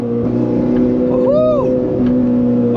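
Capristo-exhausted V8 supercar downshifting on a road near Monaco, a steady engine drone with a brief rising-and-falling rev blip in the middle, close and loud throughout.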